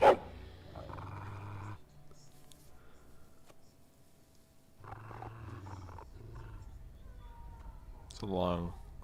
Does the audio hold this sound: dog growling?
yes